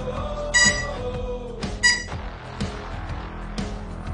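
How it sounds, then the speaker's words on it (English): Anti-theft alarm on a Dokma DT4 mini foldable electric kick scooter, sounding a series of loud electronic beeping bursts in a repeating pattern, heard up close with no talking. "This is the alarm."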